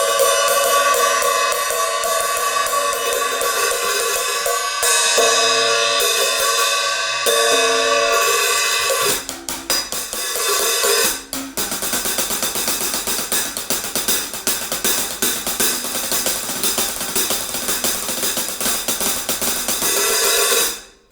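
Sustained cymbal wash from 14-inch ZYN nickel silver alloy hi-hats being opened and closed, the shimmer swelling and tightening, then a busier passage of rapid strikes before it cuts off.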